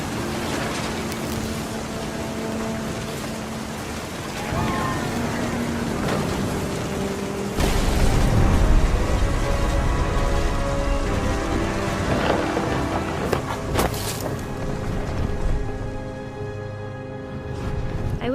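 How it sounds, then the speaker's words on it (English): A video game thunderstorm with steady rain and a deep rumble of thunder rolling in partway through, with faint music underneath. "The thunder sounded much too close and full of angry power."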